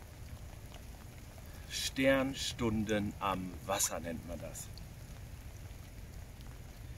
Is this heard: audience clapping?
no